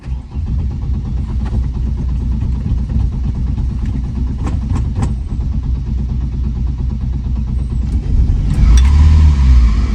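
A 1977 BMW 320i drives slowly and pulls in to park, its engine a steady mid-pitched hum with a few light clicks and a louder low rumble near the end, with no talking.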